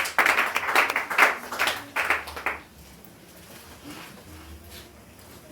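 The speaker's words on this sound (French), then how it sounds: "Nous acclamons pour la parole de Dieu" A church congregation claps together after the scripture reading, loud, fairly rhythmic applause for about two and a half seconds that then stops, leaving quiet room tone.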